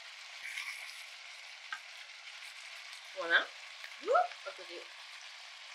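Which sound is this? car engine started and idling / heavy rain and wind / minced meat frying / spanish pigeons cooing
minced meat frying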